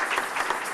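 A church congregation claps together, a dense, even patter of many hands in a brief burst.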